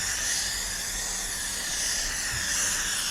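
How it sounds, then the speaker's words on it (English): A steady, continuous hiss of aerosol adhesive spray for a Volkswagen Corrado headliner, close and even in loudness for its whole length. "Let's spray this one."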